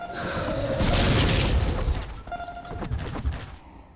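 Cluster grenades detonate in Star Wars Galaxies, a heavy rolling boom that swells and fades, followed by a second smaller burst of blasts as the explosions scatter.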